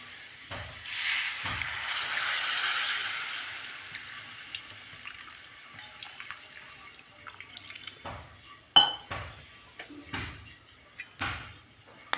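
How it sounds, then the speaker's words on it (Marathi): Water splashes from a vessel into a pan of thin potato curry, a steady pouring rush that fades out, followed by several close metallic clanks and knocks of utensils. "थोडंसं पाणी टाकून घेते त्याच्यात।"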